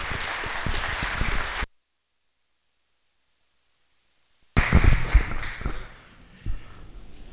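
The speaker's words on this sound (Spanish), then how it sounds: "Lo recibimos con un aplauso." An audience applauds a lecturer at a lecture on Mexican diplomatic history. A dense burst of clapping cuts off to near silence for about three seconds, then resumes loudly and tapers into scattered claps.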